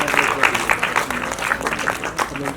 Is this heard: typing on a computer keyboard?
no